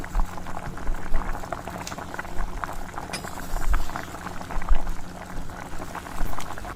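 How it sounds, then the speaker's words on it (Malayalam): Kerala-style beef curry simmers on a low flame, giving a steady close-up bubbling and popping that runs the whole time without a break. "ഇടയ്ക്കിടയ്ക്ക് ഇളക്കി വെച്ച് അടുപ്പൊന്ന് ലോയിലിട്ട് തന്നെ കറി ഒന്ന് കുറുക്കിയെടുക്കാം"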